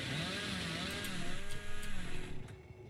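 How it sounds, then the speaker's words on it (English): A chainsaw revs up in the video game Dead by Daylight, a buzzing motor whine that rises and pulses in uneven bursts, fairly loud, with faint game sounds around it. "Charge up her chainsaw."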